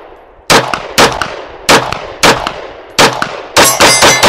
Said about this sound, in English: Let's shoot this thing, huh?